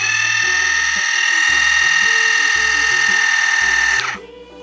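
Water flosser running empty with no water in its soft mode, a steady high-pitched electric whine over a rhythmic low pulsing motor beat, close and loud, stopping abruptly near the end.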